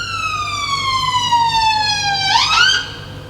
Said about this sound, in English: Just wait for the siren.